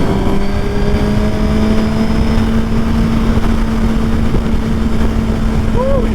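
Suzuki GSX-R 1000 motorcycle accelerating hard in sixth gear, a loud steady engine drone with rising harmonic whine close to the microphone, heavy wind rush throughout.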